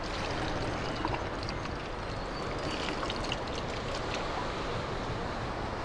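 Water is poured in a steady, continuous splashing hiss that lasts throughout, with no talking.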